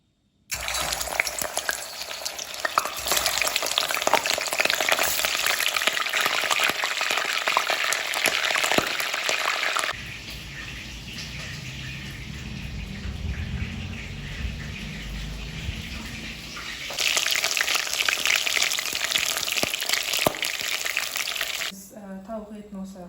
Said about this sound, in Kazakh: Енді қазір біз осындай тауық етін саламыз. Бүтіндей саламын.